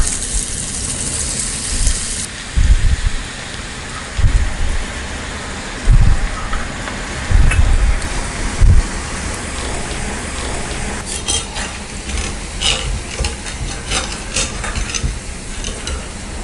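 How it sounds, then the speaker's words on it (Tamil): Murukku dough spiced with omam and garlic deep-fries in hot oil, giving a steady, loud sizzle and bubbling throughout. It is broken by occasional low thumps and scraping as the pieces are stirred and lifted out. "இதே மாதிரி நம்ம எல்லா மாவையும் டீப் ஃப்ரை பண்ணி எடுத்துக்கலாம்."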